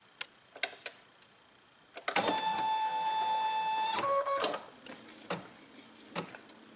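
An embroidery machine stitches a name onto a Post-it note in the hoop: a steady, tonal motor whir runs for about two seconds, shifting pitch near its end, with scattered clicks and taps before and after.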